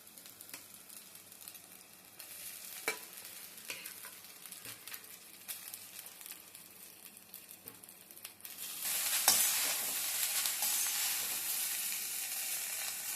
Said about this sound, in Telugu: హై ఫ్లేమ్లో పెట్టుకొని వేయించుకోవాలి రైస్ని